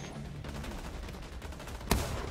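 Gunfire rattles through a firefight in the video game Division 2: a dense, continuous clatter of shots with one sharp, louder crack standing out near the end.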